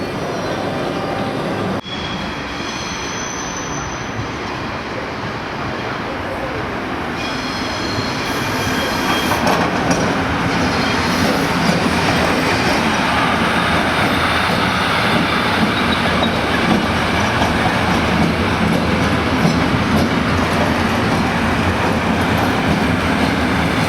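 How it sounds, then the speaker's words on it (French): A train moves through an Italian railway station with a steady rumbling roar, rising after a few seconds, with wheel squeal and rail clatter close by and no talk. "Nous allons prendre le train de 9h38 pour Bigny."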